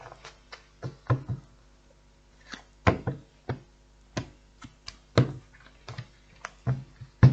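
Tarot cards are shuffled nearby in a series of irregular, crisp slaps and riffling taps, some louder than others, with short quiet gaps between them and no speech.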